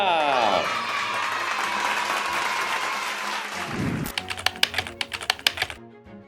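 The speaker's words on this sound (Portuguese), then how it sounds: "todo mundo que for avaliado com um a mais, eu vou soltar aplausos" Canned applause sound effect played during an Instagram livestream poll about mayors, a dense burst of clapping under a voice that gives way to sharp scattered taps near the end.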